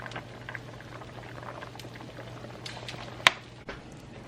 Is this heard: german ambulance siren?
no